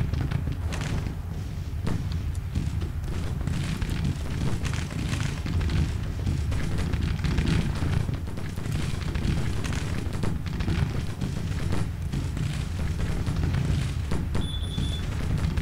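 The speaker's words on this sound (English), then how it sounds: "we've got the artillery tearing up that battalion" Artillery fire and explosions in Grand Tactician: Civil War, heard as a continuous dense roar of distant booms and rumbling battle noise throughout, with no speech.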